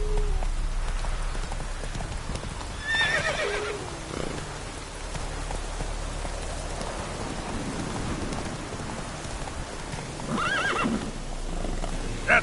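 Roach the horse from The Witcher 3 gives two high whinnies, one near the start and one near the end, over trotting hooves and steady rain on the ground.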